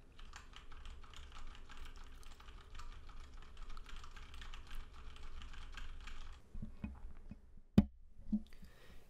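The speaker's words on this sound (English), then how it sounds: "the cardioid mode barely registers the keystrokes happening in the back" Computer keyboard typing picked up from the back of the room by a Samson G-Track Pro USB microphone in cardioid mode, a faint, steady patter of keystrokes that stops near the end, followed by a couple of sharper knocks.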